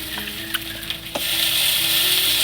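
Onions already lightly fried in a pan take in ginger and cumin paste, giving a steady, loud, close sizzle with a few soft stirring knocks.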